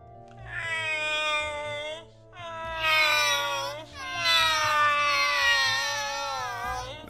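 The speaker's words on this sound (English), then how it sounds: "The cats began pleading for Aeon to let them outside to play." Two cats meow insistently in long, rising, wailing calls, three drawn-out cries close by and loud with brief gaps between them, with no talking over them.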